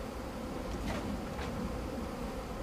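Honey bees from packages are shaken into a hive and left to work their way in, a dense, steady droning hum of many bees close to the microphone with a couple of brief louder buzzes.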